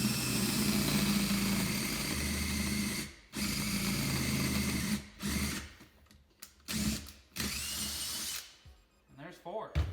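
A power drill bores new bolt holes through a wheel, whining steadily and loudly, briefly stopping and restarting as it reverses and changes direction, with short pauses near the end.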